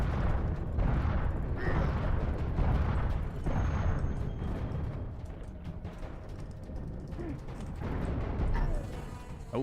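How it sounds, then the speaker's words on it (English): Grenade blasts in a video game, heavy booming rumbles rolling one after another in a dense, loud low-end wash, with the player's voice nowhere clear. "I guess I could use grenades"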